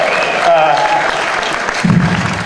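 Audience applause at a web awards ceremony, a loud burst of many hands clapping mixed with voices and crowd noise, close and brief.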